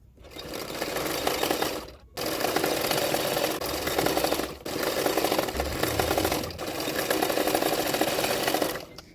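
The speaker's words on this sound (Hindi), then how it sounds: "अभी उसको इस तरह से उल्टा करते हुए फोल्ड करते हुए और एक सिलाई डाल दूंगी।" A sewing machine stitches the neck of a Katori blouse in steady whirring runs, close and loud, with short pauses between three or four bursts of stitching.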